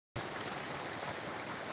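Heavy unseasonal rain falls on a village vegetable plot in Dumlav, Pardi taluka, Gujarat: a sudden, steady wash of hissing noise that continues unbroken after a moment of silence.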